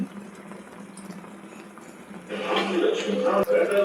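Ragi mudde mixture bubbling in a pot, a soft steady simmer that swells louder and fuller partway through, heard close with a person speaking over it.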